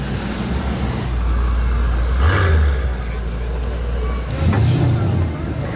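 A Porsche Cayenne engine rumbles low and steady at a supercar gathering, swelling into two louder revs, with faint voices in the background.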